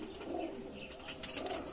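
Pigeons in a keeper's loft coo softly and repeatedly, a low rolling call at a steady moderate level, with no one speaking.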